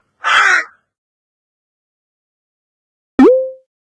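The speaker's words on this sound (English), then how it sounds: "crow," A crow gives two separate caws: a harsh, raspy call at the start, a pause of about two and a half seconds of silence, then a shorter, more tonal caw with a downward sweep near the end, loud and close.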